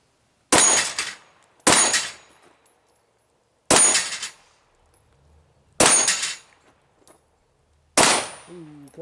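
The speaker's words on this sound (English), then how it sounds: "we'll just put a couple of shots on target with each of those" Pistol shots from a Glock 34 Gen 5 and a Sig P320 X5 ring off steel targets, five sharp reports spaced one to two seconds apart, each with a bright metallic clang and short decay, with no talk between them.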